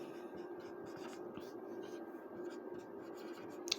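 Pen or pencil scratches across paper during a class 10 mathematics lesson on linear equations in two variables, forming a steady, close, continuous scratching texture with no speech.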